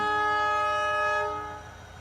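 A train sounds its horn in a sustained, loud blast while passing through the Rann of Kutch salt desert, the horn fading away over the rumble of the moving train.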